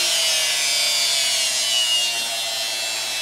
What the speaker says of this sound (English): I'm just going to allow that drum to sand down a little bit.